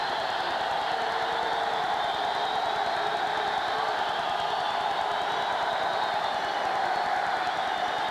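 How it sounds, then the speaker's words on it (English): A 1987 Saints versus Cincinnati football stadium crowd swelling into a steady, broad roar, loud and continuous with no clear talk over it. "Crowd picks up."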